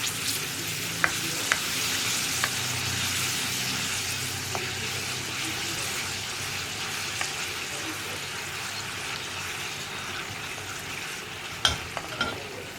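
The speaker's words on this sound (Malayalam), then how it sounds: "നമുക്കിതിലേക്ക് കുറച്ചായിട്ട് പപ്പടം ഇട്ട് കൊടുത്തിട്ട് വറുത്തെടുക്കാം." Papadam fries in hot oil with a continuous loud sizzle and bubbling, marked by a few sharp clicks and taps from a utensil.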